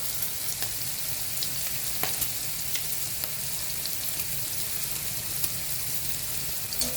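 Cut green chili and turmeric powder sizzle in hot oil for a Tamil vegetarian curry, a steady loud frying hiss with faint scattered crackles and no talk.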